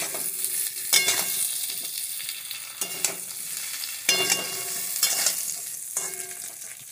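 Drumstick (sajne data) pieces and potatoes being stirred and fried in a pan for a vegetarian mustard-poppy seed dish: a soft ongoing sizzle punctuated by periodic scraping spatula strokes, near and moderately quiet, no speech.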